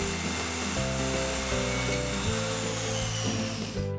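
Saw cutting through a sofa table leg, a loud close continuous buzzing cut with a steady whine and shifting pitch as the blade works through the wood.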